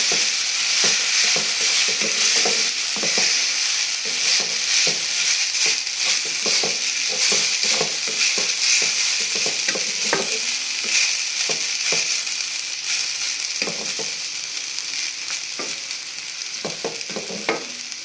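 Boiled semiya being stirred into fried onions in a hot pan: loud continuous sizzling with repeated scraping strokes of the spoon across the pan, close up and without talk.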